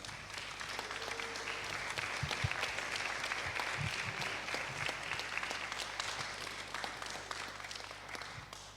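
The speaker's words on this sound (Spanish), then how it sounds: "Y un fuerte aplauso para ellos." Audience at the Make Health Latam event in Chile applauds presenters coming onto the stage, a dense, even wash of clapping held for several seconds, moderately distant with no talk over it.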